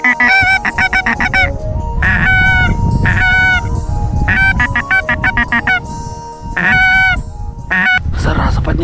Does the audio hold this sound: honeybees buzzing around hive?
no